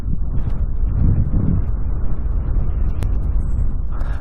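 Steady low wind roar batters the microphone while a high-speed production quad runs flat out, heavy rumbling buffeting that surges slightly early on, with one sharp brief click near the end.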